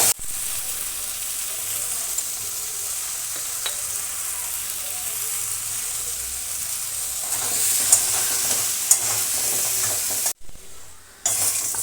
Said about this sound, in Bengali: একটু লবণ আর হলুদ দিয়ে আলুগুলো একটু লাল লাল করে ভেজে নেব।